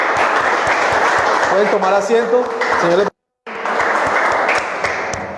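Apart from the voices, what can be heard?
applause for the Lord in church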